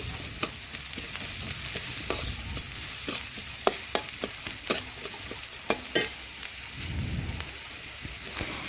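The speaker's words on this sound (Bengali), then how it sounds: "পেঁয়াজ লাল লাল করে আমি ভেজে নিয়েছি, আরও একটু নাড়াচাড়া করে ভেজে নিচ্ছি" Onions fried until reddish-brown are stirred in a pan, a continuous close sizzle punctuated by a rhythmic series of crisp spoon taps and scrapes against the metal.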